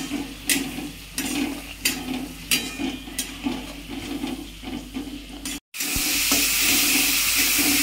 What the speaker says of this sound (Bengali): মশলাটা ভালো করে একটু ভেজে নেব।